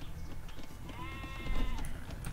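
Sheep bleating in the Age of Empires 2 Definitive Edition strategy game, a single drawn-out wavering bleat in the middle over a busy bed of game ambience and effects, no talking.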